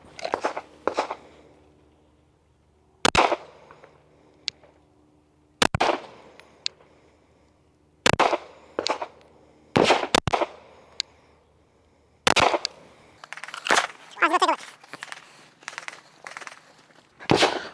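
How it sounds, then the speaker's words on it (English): Pistol fired at a target on a shooting range, with sharp, loud cracks coming one at a time at irregular intervals of a few seconds and quiet between them. "I'm going to shoot 5 rounds, attempting to put all that into that red circle right there"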